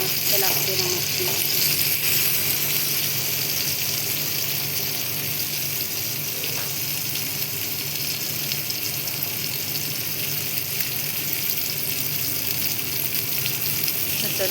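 Chilebi freshwater fish frying in a pan with oil, a steady loud sizzle and crackle running throughout with occasional spatters and stirring, no talking.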